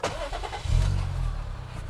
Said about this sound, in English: car's turned on